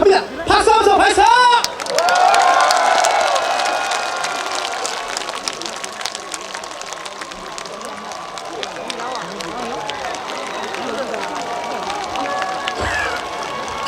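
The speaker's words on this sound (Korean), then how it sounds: "다시 한 번 박수와 박수" An outdoor crowd at the Damyang bamboo festival claps and cheers before a pop concert, a broad continuous roar with a host's amplified voice briefly over it at the start.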